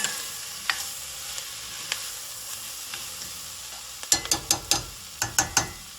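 A garlic mixture stirred in a pot, with a few light scrapes early, then a quick run of sharp metallic clicks and scrapes near the end over a faint sizzle.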